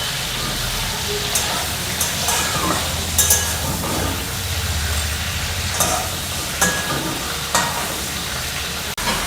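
Large golda prawns fry in oil in a pan, giving a loud, steady, dense sizzle that runs the whole time with a few faint clinks and no talking.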